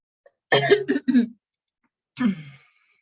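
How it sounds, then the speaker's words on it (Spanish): A burst of three quick coughs, a short pause, then a single throat-clearing rasp, close and alone in a quiet room. "me dio una carraspera muy fea"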